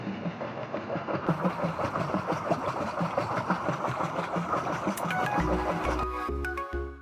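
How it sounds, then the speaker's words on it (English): Pedal boat engine, a steady rhythmic mechanical chugging that runs evenly throughout at moderate volume, with a few brief clicks and tonal blips near the end. "Now I will get this pedal boat noise sound effect from Pixabay"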